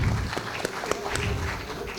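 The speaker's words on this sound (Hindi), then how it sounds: "तो आप इनके लिए ज़रूर तालियाँ बजा" Scattered clapping from an audience at a multilingual poetry gathering (mushaira) rises briefly amid room murmur and voices, a short loose patter of hands rather than a full ovation.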